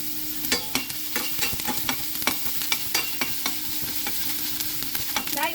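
Onion sizzles in hot cooking oil in a pan while being stirred, a continuous close frying hiss broken by repeated sharp scrapes of the utensil.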